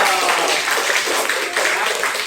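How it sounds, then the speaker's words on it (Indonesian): Classroom applause after a student group's project presentation: a brief wash of many hands clapping at once, dense and fairly loud, holding steady for a couple of seconds with no voices on top. "Tepuk tangan aja dong."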